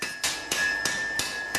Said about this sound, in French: Donc, on va l'amener au marteau.